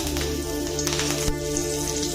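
Curry leaves sizzling in about two spoonfuls of hot oil in a kadhai, a steady, loud crackling hiss throughout with a few sharper pops, no voices.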